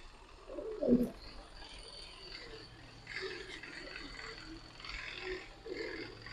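Giribaz and coloured pigeons in a large collection coo in soft, low, rolling calls: one close, fuller burst at first, then several fainter coos spread across the rest, with a quiet murmur in the background.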